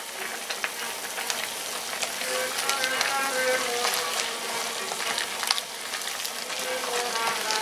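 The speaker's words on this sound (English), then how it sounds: "Let's give that a stir." Chili of beef, tomatoes and peppers being stirred in a pot, a steady close sizzling and bubbling with soft scraping, continuous throughout with no talking.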